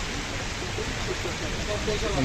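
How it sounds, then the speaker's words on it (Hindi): Rain starting to fall by a roadside dhaba on the Sach Pass mountain road gives a steady, dense hiss that fills the whole clip, with faint voices underneath. "बारिश स्टार्ट हो चुकी है"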